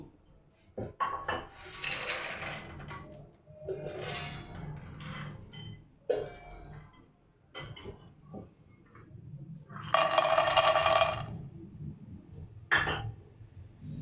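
Makhana (lotus seeds) tipped into a frying pan on a stove, heard as scattered clinks and rattling bursts of hard seeds against metal, close and moderately loud, with quieter handling noises between; no talking.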